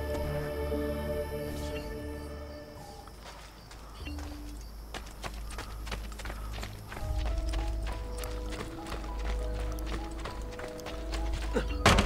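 Steady clip-clopping of horse hooves trotting along in the video game Assassin's Creed Brotherhood, mixed with game music and mechanical clatter.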